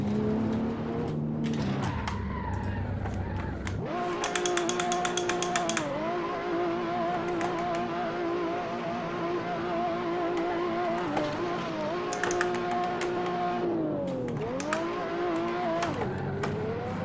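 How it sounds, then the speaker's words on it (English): A race car in Assetto Corsa performs a celebratory burnout, its engine held at a high, steady rev with repeated rises and dips and tire squeal, loud and close with no talk. "Celebratory burnout."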